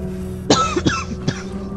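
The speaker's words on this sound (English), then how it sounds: "Oh no, I'm coughing so bad." A person coughs in a Fallout 4 session, three distinct harsh bursts spaced about half a second apart, fairly close and clear over a steady low hum.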